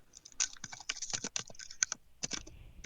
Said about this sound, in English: Why are you furiously typing?